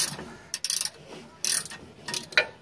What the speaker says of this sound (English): I'd keep your face away from the rotor because it's going to pop out.